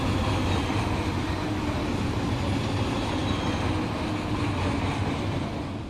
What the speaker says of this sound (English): You can hear a train actually rolling up right now.